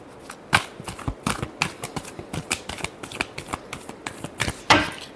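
A deck of tarot cards is shuffled by hand, giving a rapid run of crisp, close riffling and snapping flicks that continues with few pauses.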